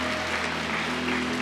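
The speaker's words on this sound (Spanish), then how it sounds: "¿Qué tal si honramos con un fuerte aplauso a todos los voluntarios que hoy lo han hecho" Church congregation applauding volunteers after a service, a steady loud wash of clapping hands over a sustained low tone, no voices.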